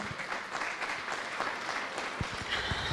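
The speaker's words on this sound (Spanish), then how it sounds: "le damos un aplauso al hermano" Brief audience applause, a moderate wash of clapping hands that stays fairly even throughout, with some low thumps near the end.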